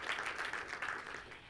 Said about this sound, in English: Can you guys please help me give them a round of applause?